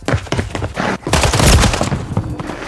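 An SMG is hip-fired in rapid bursts in Call of Duty on Rebirth Island. The gunfire is loud and close, with dense bursts and a short pause near the middle.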